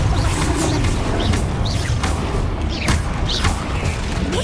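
A Confringo spell explodes during Hogwarts Legacy combat, a loud, dense roar of blasts, whooshes and crashing impacts that fills the whole stretch with almost no pause.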